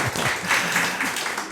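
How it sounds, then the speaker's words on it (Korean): A congregation applauds during a Korean Sunday church service, a brief burst of many hands clapping in a reverberant hall that carries on evenly for a moment. "우리 박수로 좀 격려하겠습니다"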